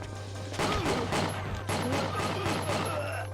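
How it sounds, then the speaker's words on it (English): In the video game Winback: Covert Operations, rapid bursts of gunfire crack repeatedly in quick succession over a constant low hum, dense and fairly loud, with no talk. "the gunfire started early and then they got alerted to that"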